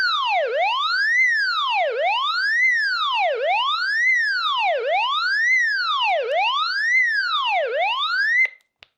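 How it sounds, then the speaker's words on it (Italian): Emergency alarm from a Retevis RA619 Bluetooth walkie-talkie: a loud electronic siren rising and falling in a steady wail about every 1.4 seconds, repeating six times before cutting off abruptly. "Abbiamo anche un allarme."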